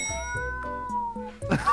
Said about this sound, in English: Give me a cat meowing in B minor.